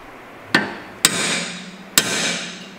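Three sharp metallic hammer strikes on the control arm ball joint of a 2012 B8 Audi S4, evenly spaced with short ringing decay, close and loud with no talking.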